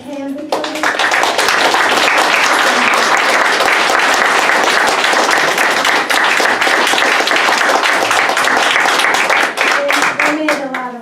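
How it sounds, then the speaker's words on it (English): Audience at a constitutional convention forum giving sustained loud applause, a dense, even roar of many hands clapping for about ten seconds, with voices partly audible underneath. "let's give them a really big hand"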